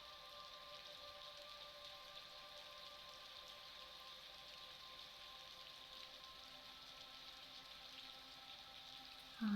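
Gentle rain falls as a soft, even hiss that stays faint and steady throughout, with no voices or other sounds.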